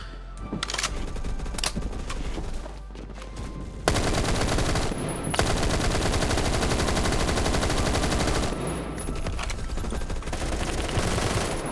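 HAMR IAR automatic rifle fire from the video game Phantom Forces rattles out in long, dense, rapid bursts, loud and sustained, with a brief pause between strings of shots.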